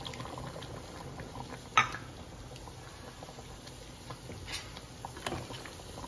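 A pot of tamarind vegetable curry bubbles at a gentle boil, a soft steady patter of simmering with one brief sharper clink, fairly quiet and uninterrupted by talk.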